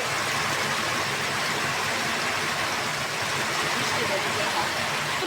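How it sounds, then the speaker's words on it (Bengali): Heavy rain pours outside a village kitchen as a dense, steady, loud hiss that never lets up, with a voice speaking under it. "তুলুম তুমুর বৃষ্টি হইতেছে বাহিরে"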